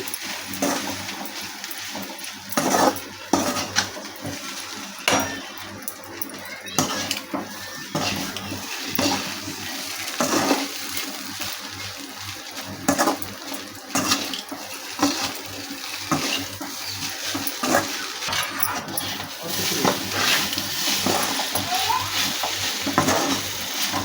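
Tiger prawn fry being stirred in a pan: repeated scraping and clinks of a utensil against metal over a continuous close sizzle, rhythmic and busy throughout.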